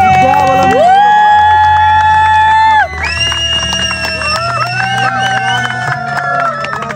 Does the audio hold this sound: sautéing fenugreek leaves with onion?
no